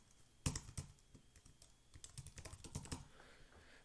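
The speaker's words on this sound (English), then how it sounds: "So if I were to type something" Typing on a computer keyboard: a quick run of close key clicks, starting with a sharp tap, then a pause and a faster clattering burst of keystrokes.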